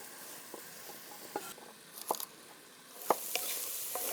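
Onions fry in a cast iron Skottsberg pan, giving off a faint, steady sizzle with a few soft clicks and scrapes of stirring spaced through it.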